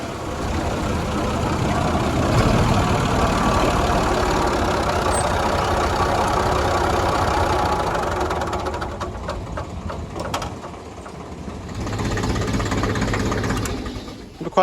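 A small Massey Ferguson Fergie tractor engine idles close by with a steady, even chugging drone that dips briefly near the end before picking back up.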